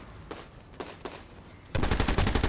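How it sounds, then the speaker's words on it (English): Burst-fire gunshots ring out in the shooter game Medal of Honor: Warfighter, starting as a few separate cracks and then building to a loud, dense, rapid stream of fire up close. "I am burst firing my shots there"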